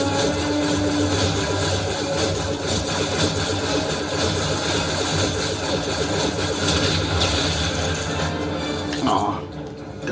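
A big vehicle's engine in an Xbox 360 Lego game holds a steady, loud mid-pitched rumble and vibration across the whole stretch, with a voice talking over it and a drop-off near the end.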